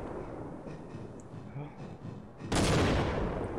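Gunfire in the shooter Half-Life: low rumbling activity under faint talk, then a sudden loud, broadband shot or blast that rings on to the end.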